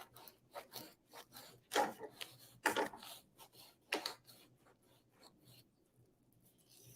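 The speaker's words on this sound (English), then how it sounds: "feed your knife through, and just cut along" A knife slicing through watermelon rind during fruit carving gives a run of close, dry rasping strokes, a few sharper and louder than the rest, with a quiet stretch at the end.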